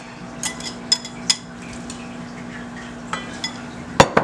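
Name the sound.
mixing pumpkin into cake batter in a bowl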